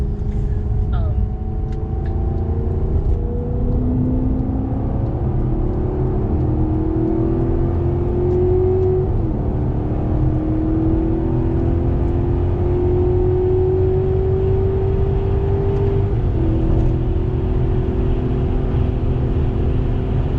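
A Maserati GranTurismo S accelerating hard, its engine note rising steadily through long smooth pulls with a gear change midway, loud and continuous from inside the cabin.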